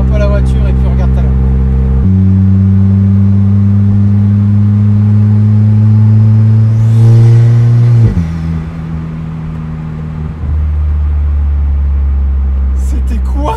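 An Alfa Romeo 4C engine idles loudly and close while warming up, its deep drone shifting pitch as the revs rise and fall in a few steps.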